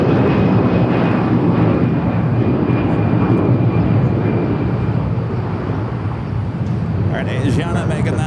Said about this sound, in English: The flight taken off was American Airlines Flight 753 heading to Atlanta, Georgia in an A321.